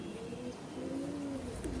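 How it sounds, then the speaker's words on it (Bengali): A prize-winning racing pigeon from a breeding pair gives soft, low cooing, a few rising and falling calls close by over steady background hiss, with no one talking. "এই কবুতরটা হলো"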